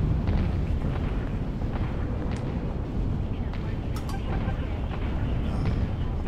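Cannon fire in the video game Atom Zombie Smasher delivers a steady barrage of heavy, overlapping explosions and booms, loud and continuous, with a few sharper bursts cracking through the rumble.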